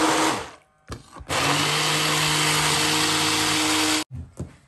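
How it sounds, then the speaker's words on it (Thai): A hand blender blending blackberries for jam whirs loudly in sustained bursts, a short start-stop pulse, then a long continuous run before cutting off. "ใช้เครื่องปั่นมือแบบนี้ก็ดีนะคะสะดวก"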